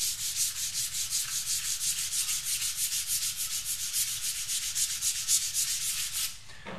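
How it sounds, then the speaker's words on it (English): Steady, rhythmic sanding strokes rub back and forth across a hard, cured UV polyester resin clear coat on a guitar, close and continuous, with no voices. "I'm ready for the next step, and that is to start level sanding"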